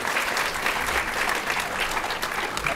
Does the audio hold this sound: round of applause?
yes